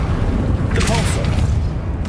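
A deep, rumbling Repulsor spell blast from combat in Hogwarts Legacy, heard as a loud low boom with a brief brighter burst in the middle, mixed with a voice.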